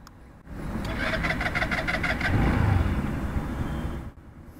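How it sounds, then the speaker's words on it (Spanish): A 2022 Italika BIT150 automatic motorcycle engine starts and idles with a steady scooter-like buzzing putter, close up, rising slightly before cutting off near the end. "El sonido es exactamente como si fuera una motoneta"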